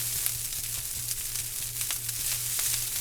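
Fried rice with soy sauce and sesame sizzles steadily in a hot pan, a dense, continuous close-up crackle with a low hum underneath and no talking.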